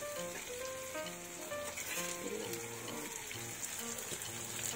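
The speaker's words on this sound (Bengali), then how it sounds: "এই সবজিগুলো আমি ভালো করে ভেজে নেব।" Vegetables frying in a pan for a big black carp curry, a steady close sizzle running the whole time with faint stirring clatter, no talking.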